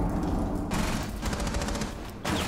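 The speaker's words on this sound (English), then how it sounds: "I got shot from Shawk." Gunfire from the operator Shawk in the shooter game Rainbow Six Siege, a dense burst of loud close shots running for about two seconds with a brief lull partway through.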